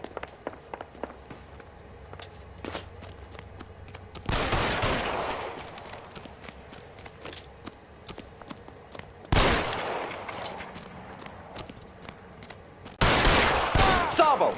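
Bursts of gunfire in the L.A. Noire Remastered crime game, three loud volleys breaking out from quieter stretches with footsteps and faint ambience in between.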